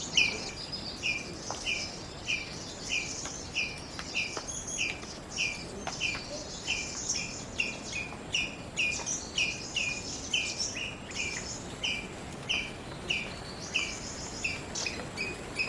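A squirrel calls loudly in a forest, a fast rhythmic series of sharp chirps repeating steadily throughout, moderately distant, with insect buzz and bird sounds in the background.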